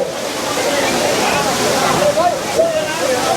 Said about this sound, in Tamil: அருவிலேருந்து எப்படி தண்ணி கொட்டுது